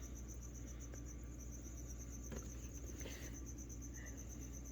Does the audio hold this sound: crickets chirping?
yes